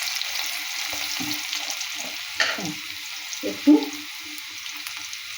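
Cumin and onion frying in hot oil, a soft steady sizzle with occasional louder spits and pops, a few clinks of utensils, and a brief word spoken over it.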